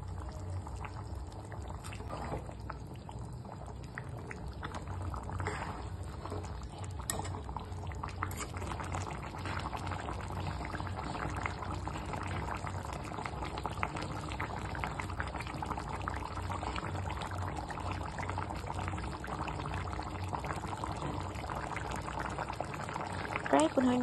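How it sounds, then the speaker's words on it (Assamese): Assamese fish curry with tomato and pieces of fried fish simmers on a gas stove at medium flame. Steady, soft bubbling and light popping continue throughout under faint background talk. "এতিয়া ইয়াতে ফ্ৰাই কৰি থোৱা মাছ কেইপিচ দি লৈছোঁ আৰু গেছৰ ফ্লেমটো মিডিয়াম কৰি প্ৰায় 15 মিনিটমান সময়ৰ কাৰণে সিজিবলৈ দিম।"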